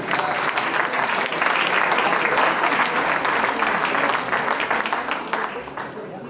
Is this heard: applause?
yes